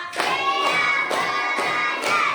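Classroom of children clapping together in a rhythmic pattern, loud broadband bursts in repeated groups with brief pauses between them, nearby and indoors.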